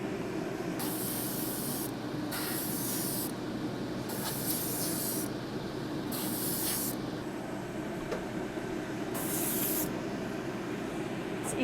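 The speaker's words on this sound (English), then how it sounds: "we're gonna get closer and we're gonna spray a little less on the trigger" An airbrush sprays silver paint onto a space-themed galaxy cake in steady hissing bursts, several short trigger pulls with brief pauses between them, close and fairly loud with no talking.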